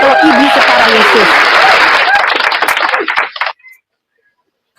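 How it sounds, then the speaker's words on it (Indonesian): Studio audience applause for the host of a heated Indonesian debate show, loud and dense for about three seconds, mixed with cheering voices, then breaking off abruptly into silence. "Tepuk tangan host, luar biasa."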